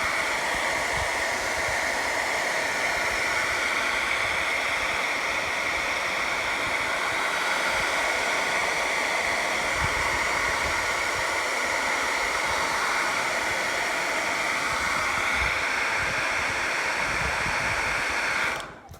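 A heat gun or hair dryer blows a steady, loud, even rush of hot air onto pit bike plastic to soften a decal kit for peeling, running alone before cutting off at the end.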